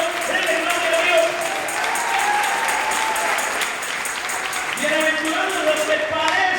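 A church congregation applauds steadily through the whole stretch, a dense wash of clapping filling the space, with a voice speaking over it.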